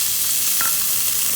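Long beans hit a hot pan of browned garlic and fry with a steady, bright sizzle, with a brief stir near the middle and no voices.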